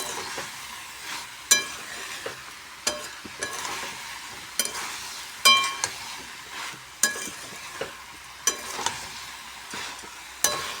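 Mixed vegetables are sautéed in a pan, giving a continuous soft sizzle with a sharp clank of the spatula every second or so as they are stirred, close and moderately loud, no talking.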